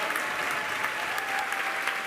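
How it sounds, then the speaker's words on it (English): A crowd cheers and applauds at a SpaceX Starship launch (flight 13) as Starlink V3 satellites deploy. The applause is steady and dense, with scattered claps and shouts sounding throughout. "the crowd is definitely hyped about this"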